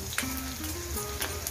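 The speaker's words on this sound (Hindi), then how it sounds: "गरम तेल में कूटा हुआ अदरक लहसुन डालेंगे।" Crushed ginger and garlic sizzle steadily in hot oil in a kadhai, a loud, continuous hiss close up with faint clinks.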